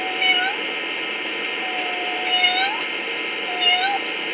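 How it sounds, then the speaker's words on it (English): A lost kitten meows in a garden, three thin rising calls spaced about a second apart against a steady background hiss. "there it is in the garden, a little lost kitten"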